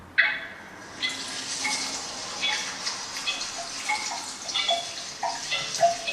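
A liquid pouring sound effect, a continuous bubbling, gurgling splash of liquid with small droplet plinks, moderately loud and steady throughout.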